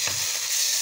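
Soy sauce hits a hot pan of sautéed lomi base, giving a short, bright sizzle up close with a faint stir at the start.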